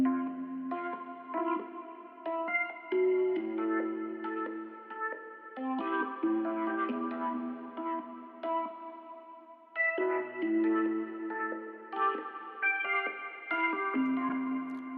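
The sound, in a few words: Rhodes electric piano with delay effect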